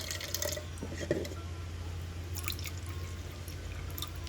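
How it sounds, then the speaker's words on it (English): Water added to a rice cooker holding soaked basmati rice, a light trickle and dripping heard close and fairly quiet against a steady low hum, with no talk. "We just add on a bit of water."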